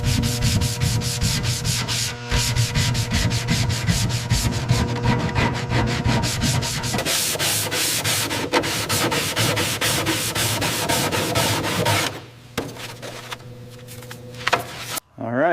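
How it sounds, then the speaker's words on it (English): Cloth wiping and rubbing solvent across a sanded train cab panel during restoration of a Percy toy-style locomotive, a steady close scrubbing with repeated short strokes that continues almost throughout, ending in a brief pause and a few final wipes. "just cleaning off the last of the sanding dust here with the solvent before we prime this section."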